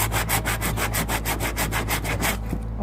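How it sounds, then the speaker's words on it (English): Sandpaper is rubbed back and forth over a glued-down wooden edge in quick, even strokes, a close rhythmic scratching that repeats about a dozen times before stopping. "get sandpaper, run it over the edge"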